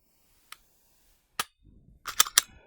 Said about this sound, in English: So let's get to some shooting.